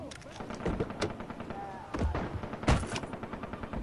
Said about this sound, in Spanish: Oigo tiros, pero me hago tonto.